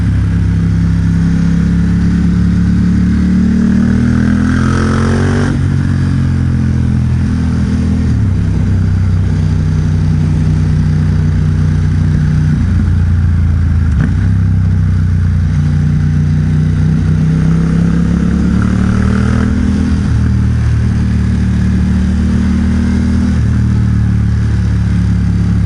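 A 2021 Ducati XDiavel Dark, 1262 cc, fitted with a Vandemon exhaust and dB killers, rumbles and revs close by, its deep throttle blips rising and falling throughout with no talking.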